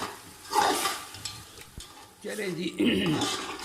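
Minced meat with garlic and ginger sizzles in a hot pan while a spoon scrapes and stirs, with clinks of utensil against metal and short louder bursts of frying.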